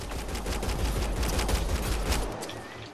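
Sci-fi firefight in the video game Mass Effect: Andromeda: rapid bursts of gunfire crackle loudly and continuously for over two seconds, then cut off abruptly, leaving a faint tail.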